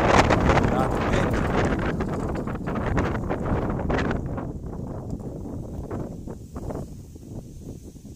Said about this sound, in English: Got the wind.